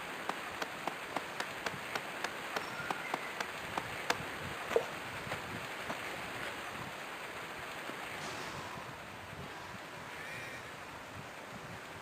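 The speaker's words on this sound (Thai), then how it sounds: "ฝนตก" Steady rain falls on an island, a dense continuous hiss that stays fairly faint, with a soft regular ticking underneath and no voices.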